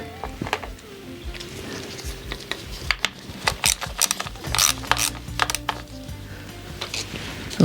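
A hose clamp being tightened on an Alfa MiTo engine: a run of quick ratcheting clicks and small metallic mechanism sounds, close up and fairly quiet, coming in irregular bursts.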